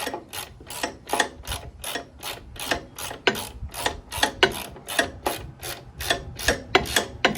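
A ratchet wrench clicks in a steady back-and-forth rhythm while bolts are tightened on a boat jack plate. Each stroke gives a close, crisp burst of ratcheting, and there is no talking.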